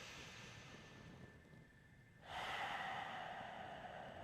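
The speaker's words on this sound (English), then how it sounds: "take 2 slow, cleansing breaths, drop that tension on the exhales" During a slow yin yoga session, a person takes slow, cleansing breaths, a soft steady breath followed by a louder, airy exhale that lingers for a couple of seconds in a quiet room.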